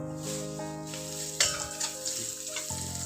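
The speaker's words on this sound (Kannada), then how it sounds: "ನಾವಿಲ್ಲಿ ಕರಿಬೇವನ್ನ ಫ್ರೈ ಮಾಡ್ಕೋಬೇಕು" Curry leaves frying in hot oil while cooking chitranna, a steady soft sizzle with a constant background hum and a few light crackles and stirring clicks.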